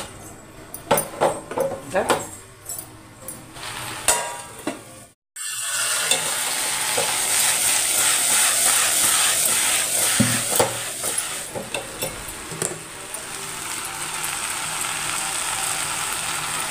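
Okra frying in oil with turmeric and salt, a steady close sizzle with stirring clatter, briefly cut out then resuming loud and continuous, with a voice talking over parts of it.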